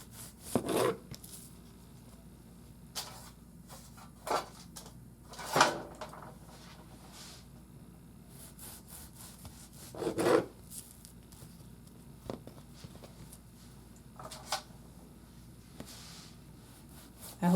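Short, soft scraping strokes come in scattered bursts as a serrated knife saws through rolled cinnamon roll dough in a quiet room.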